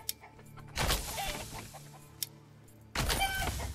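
Chickens clucking in the medieval city-building game Manor Lords, a few short clucks and calls mixed with game ambience, with brief louder bursts at the start and end.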